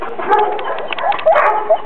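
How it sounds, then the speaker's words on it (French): A dog gives a run of short, high yips and barks in quick succession, close by, with some faint background chatter. "tu avais bien aboyé"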